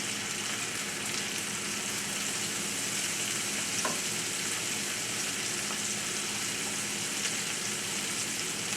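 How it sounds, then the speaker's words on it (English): Shallots sizzle steadily in a hot frying pan as it is shaken, giving a dense, close, continuous hiss and crackle with occasional faint clinks, heard without talk. "Shake the pan. You just need them warm for like a minute or so."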